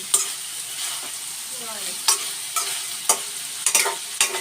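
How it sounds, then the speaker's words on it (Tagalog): Ground pork sautéing in a pan with a constant hiss, broken by repeated scraping and clinking strokes of a spoon stirring it, close and clear with nobody speaking. "Ginisa na natin siya, mga langga, no? Siyempre, halo-haloin lang natin."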